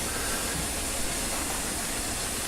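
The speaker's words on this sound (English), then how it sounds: "Now we're going to have to try and save steam. A lot at the moment we're blowing off, we've got more than enough." A steam locomotive hauling the Scotsman over Shap blows off excess steam in a loud, continuous broadband hiss that fills the whole moment with no letup.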